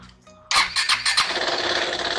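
A motorcycle fitted with ABS starts with a sudden loud burst at about half a second. A short high whine comes first, then the engine settles into a steady close idle that runs to the end.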